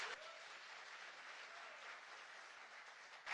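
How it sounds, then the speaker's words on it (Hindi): Audience at a DXN success-story event breaking into applause, a steady, fairly quiet wash of clapping that holds evenly for a few seconds and swells slightly at the end. "तो डिएक्शन सिस्टम के लिए एक जोरदार ताली होना चाहिए।"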